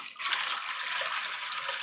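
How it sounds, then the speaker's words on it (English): Steady gushing of water poured into a bucket for hand-casting mold mix, a continuous bright splashing rush starting abruptly and holding evenly to the end. "we're going to pour our water in our bucket."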